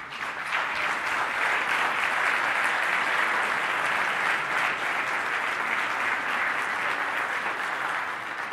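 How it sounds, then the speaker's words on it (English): Sustained applause from a conference audience at a design event, dense and steady for the whole stretch, with no voices rising above it. "I want you all to give yourself a big round of applause"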